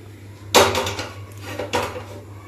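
A kadhai pan is set down on a gas stove in two clattering metal knocks about a second apart, close and loud, with no voices.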